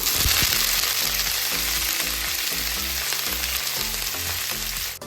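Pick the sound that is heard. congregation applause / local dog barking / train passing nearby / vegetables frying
vegetables frying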